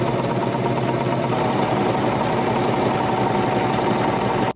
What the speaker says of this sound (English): now I can go over all of these raw edges with my serger, and I'm just going to do a rolled hem with black thread